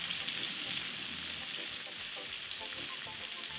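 Bacon cooking slowly on lowered heat in a pan for a bourbon bacon jam, giving a steady, moderate sizzle and crackle throughout with a few sharper pops, and no talking.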